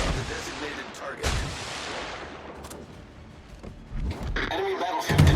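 Heavy naval guns in a warship game boom in a few loud, deep blasts with rolling echoes that fade between shots, while a voice talks over them.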